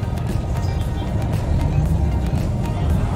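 Steady low rumble and road noise from inside a bus riding through city traffic toward Divisoria, a continuous close drone with faint muffled talk underneath.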